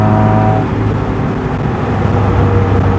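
An Austin A35 van's engine runs loud inside the cab, a steady low droning hum with metallic vibration and a faint whine, continuous and close, with no talking.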